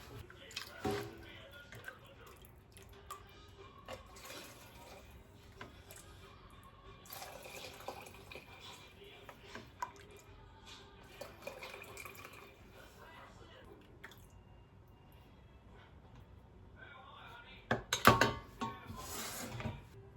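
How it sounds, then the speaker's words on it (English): Stock is ladled into canning jars of beans, giving faint intermittent pours and drips with soft clinks of the ladle against glass and a louder clattering burst near the end, quiet throughout. "We're gonna ladle it all on top and then clean up the jars and get them in the canner."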